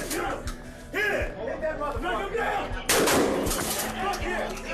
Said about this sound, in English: Stand by. Shot being fired.